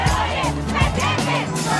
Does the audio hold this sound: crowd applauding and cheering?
yes